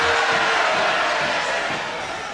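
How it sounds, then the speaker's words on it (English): A crowd at a wrestling match between Johnny Czeslaw and Ray Thunder keeps up a loud, dense roar of shouting voices, steady throughout and fading slightly toward the end. "the crowd just telling him to get on with it"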